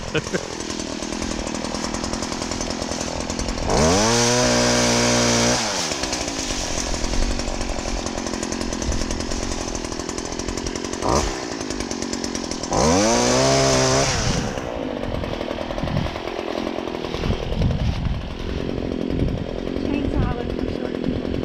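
A small powered saw, a Stihl HT-56c pole saw, whines steadily, revving up twice as it bites into a tree limb, with a voice talking over the running motor.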